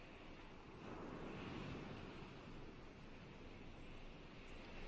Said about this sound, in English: We're on the beach.